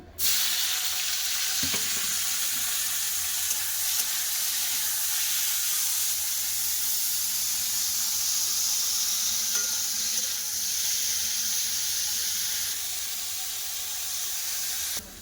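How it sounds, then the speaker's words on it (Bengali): Flat beans frying in hot oil in a kadai, a steady soft sizzle and hiss that holds evenly for the whole stretch with no talking. "তেল গরম হয়ে গেছে এবার দিয়ে দেবো সিম"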